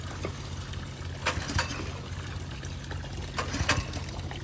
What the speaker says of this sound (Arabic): اوريكم بقى الميه اللي طالعه ديت اصلا ينفع تشربوا منها عادي، لانها ده ميه نضيفه جدا